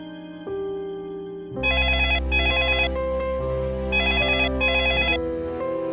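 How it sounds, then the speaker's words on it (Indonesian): A telephone rings with a bright electronic ringtone in repeated paired bursts, loud and close over a sustained musical background. "Telepon berdering."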